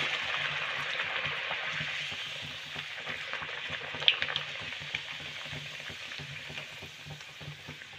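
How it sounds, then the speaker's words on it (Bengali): Pea-stuffed kachori frying one at a time in hot oil in a home kitchen, a steady close sizzling hiss with faint crackles and a small pop midway, no talking. "আমি কিন্তু এখানে একটা একটা করেই ভেজে নেব"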